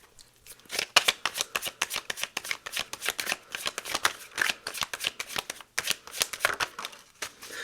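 Tarot cards being shuffled by hand, a quick run of crisp riffles and soft slaps in a steady, uneven rhythm, close and fairly quiet, with no talking.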